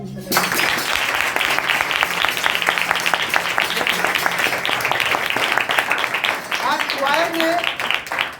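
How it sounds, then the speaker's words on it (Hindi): A church congregation applauds after a worship service, steady dense clapping building quickly and holding for several seconds, with a brief voice near the end as it fades. "अगर आया तो तालियां दें।"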